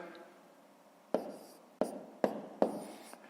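A pen writes numbers by hand during a fifth-grade maths exercise, making four sharp, close scratching strokes spaced about half a second apart over a quiet room background.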